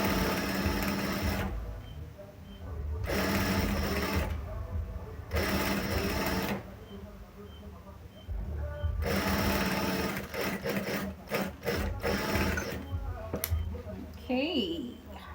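A sewing machine stitching a sling bag seam runs in several steady, close bursts of rapid mechanical whirring with short pauses between them, followed by lighter clicks and handling noise near the end.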